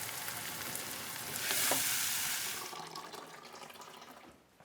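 Oil sizzling in a pan as onions fry with curry powder, a steady hiss that swells briefly around a stir before easing back, with faint water-tap sounds mixed in; no talking.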